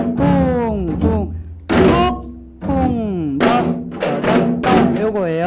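Janggu drum played in the jungmori rhythm during a Gyeonggi folk song lesson, a few close thunking strokes mixed with a voice chanting the drum syllables aloud.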